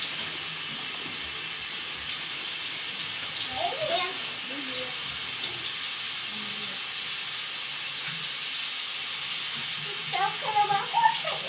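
Tap water runs in a steady, even hiss, with a few brief voices breaking through faintly now and then.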